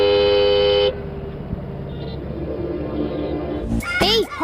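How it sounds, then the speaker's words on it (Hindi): A car horn toots steadily for about a second, followed by traffic rumble, then a burst of other horns and voices near the end. "हॉर्न सुनाई नहीं दे रहा है क्या?"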